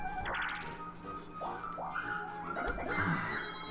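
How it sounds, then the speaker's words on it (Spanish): Dogs whimper and yip behind a door in the Mario Party video game, a string of short rising whines and squeals over soft game music. "Oh, Dios, los perros están llorando detrás de la puerta."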